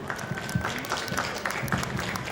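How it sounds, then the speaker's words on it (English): A faint round of applause from an audience at a stage performance, with irregular claps and thin crowd texture heard from a distance and no speech over it. "Let's have a huge round of applause for all those who have stepped into the spotlight"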